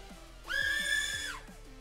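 A BETAFPV X-Knight 35 3.5-inch FPV drone throttles up, its motors rising into a bright whine that holds for nearly a second and then winds down, with short chirps before and after.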